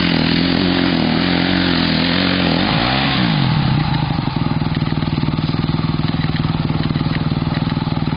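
An enduro motorcycle engine on a dirt trail near Kastoria drones steadily and loud, then its pitch swings as the throttle is blipped around the third second before settling into a fast, rough, buzzing rev.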